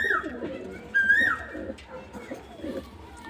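Short-bodied, close-tailed pigeons coo in a home loft, low murmuring calls near at hand, with a couple of sharp whistle-like tones cutting in above them.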